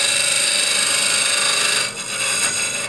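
A steady, harsh scraping hiss of a hollowing tool cutting into spinning wood on a lathe, continuous and close, with a brief dip before the cutting resumes.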